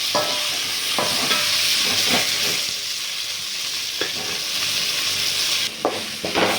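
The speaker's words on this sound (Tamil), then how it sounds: "இப்போ நம்ம தக்காளி சேர்த்து வதக்கிக்கலாம்" Onions and tomatoes sauté in a pan for a fish curry, making a loud, constant sizzle with occasional scraping stirs of a spatula, close up and with no voices.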